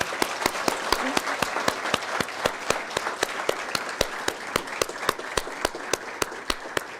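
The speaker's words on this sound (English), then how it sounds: "Can we have a round of applause, please?" A crowd at a satellite launch viewing event in Thimphu applauds with steady, evenly spaced claps that sound moderately close and continue throughout.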